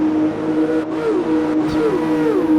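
A pack of race cars in an XRL F2 league race in Italy, engines droning steadily with rising and falling pitch sweeps as cars pass close by in quick succession.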